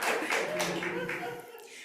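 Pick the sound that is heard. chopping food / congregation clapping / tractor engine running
congregation clapping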